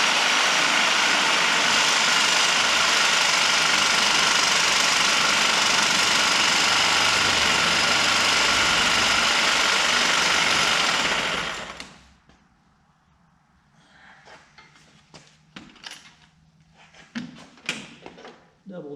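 A reciprocating saw fitted with a Milwaukee Torch blade cuts through a soft mounting bolt on a Bobcat 331 pump, a loud, steady buzzing rasp that stops abruptly partway, followed by quieter clinks and someone talking.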